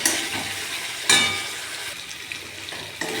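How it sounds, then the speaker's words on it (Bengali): Spice masala of turmeric, chili and cumin with grated tomato sizzles softly as it is sautéed in a pan, with occasional stirring scrapes and no talk. "মশলাটা কষানো হয়ে গেছে ভালো করে"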